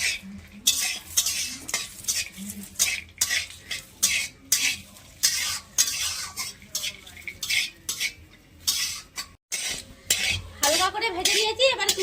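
Cashews and raisins fry in ghee in a wok, a ladle scraping and clattering against the metal in quick irregular strokes over a soft sizzle, with short pauses between bursts of stirring and no talking.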